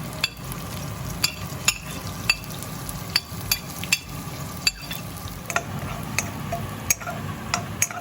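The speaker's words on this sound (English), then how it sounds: "Make sure I have a good stir, okay?" Chicken frying in a pan with lemongrass, skin crisping, gets stirred: a steady sizzle runs throughout with repeated sharp clicks and scrapes of the utensil against the pan at an uneven rhythm, close up and alone.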